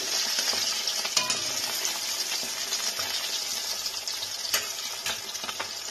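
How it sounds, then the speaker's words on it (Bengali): Pabda fish fry in a pan of oil with a steady, close sizzle, sprinkled with small crackles and spits throughout and no voices. "माछगुलोर একটা দিক ভালো করে ভাজা হয়ে গেছে। এবার আমি এটাকে উল্টে দিয়েছি।"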